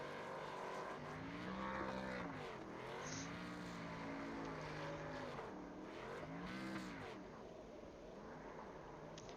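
Race truck in the iRacing game doing a burnout at Texas, its engine revving loud and continuous with rising and falling pitch sweeps over a steady roar, with a faint voice underneath.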